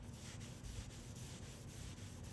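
A hand rubs back and forth over the smooth painted surface of a Toyota RAV4, a soft repeated swishing in a quiet setting.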